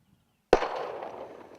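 A single sharp gunshot while hunting outdoors, a sudden loud crack after near silence that fades with a lingering echo.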